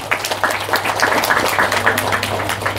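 An audience at a religious sermon claps for the pondok pesantren, an Islamic boarding school, in a dense, steady burst of moderately loud applause with no talking over it.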